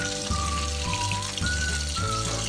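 Chicken 65 pieces fry in hot oil with a constant loud, fizzy sizzle and crackle. A faint tonal hum sits underneath, and no one speaks.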